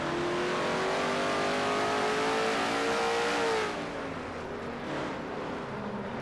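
A NASCAR race car in a racing video game winds its engine up to around 9,600 RPM, a loud rising whine that peaks and then drops off into a lower, steadier drone.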